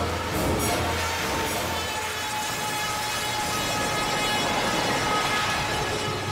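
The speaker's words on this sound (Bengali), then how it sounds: "ট্রেনের আওয়াজ আসছে কিন্তু কিন্তু ট্রেনকে দেখা যাচ্ছে না।" A train rumbles past as a steady, loud, continuous roar and clatter in a Bengali horror drama, sustained throughout with no voices.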